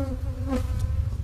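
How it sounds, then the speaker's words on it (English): Bees buzz loudly and close up around a large beehive, a dense continuous drone with a few individual insects whining past. "The bold buzzing of bees."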